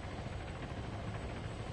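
A helicopter drones as a steady low rumble with faint rotor throb, moderately distant and quiet, with no voices during the sound.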